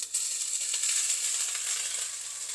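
Steady, close hiss of ingredients frying in hot oil for lemon rice, with fried dal and cashew pieces in the pan, an even sizzle with no talk.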